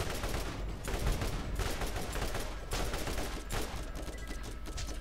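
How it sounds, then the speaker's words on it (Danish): Rapid automatic gunfire from a gun in the video game Borderlands, a dense continuous fusillade of shots at steady loud level throughout, with no talking. "Du kan jo bare se, hvor hurtigt den skyder."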